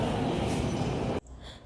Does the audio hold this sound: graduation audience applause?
no